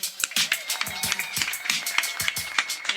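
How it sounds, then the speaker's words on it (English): Sparse hand clapping from a small live-venue audience in Ashland City, individual claps close and distinct in an irregular rhythm, quiet overall, with a voice and a tonal hum underneath. "So let's give a hand of applause out for you guys right now"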